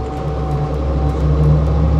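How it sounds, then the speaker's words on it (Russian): A Kirpi MRAP armored truck from Turkey rolls slowly across a flat field, its engine a steady low drone with a faint hum on top, close and fairly loud, alone without talk. "это грузовик, который очень небольшой скоростью едет по ровному полю"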